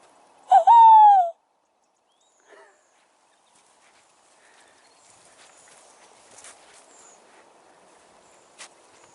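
A single falling hoot-like call imitating an owl, made by a voice, followed by faint footsteps and scattered soft outdoor sounds.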